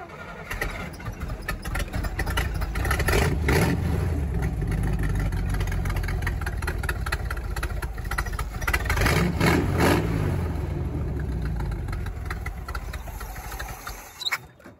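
Jeep CJ5 engine with a Quadrajet carburetor cranking, catching and idling roughly, loud and close, with uneven revs rising and falling throughout.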